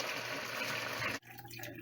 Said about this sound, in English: I'm gonna use 2 cups of hot water to